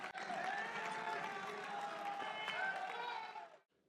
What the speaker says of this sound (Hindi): जोरदार तालियों से खड़े होकर अभिनंदन करिए केंद्रीय मंत्री, रक्षा मंत्री राजनाथ सिंह जी का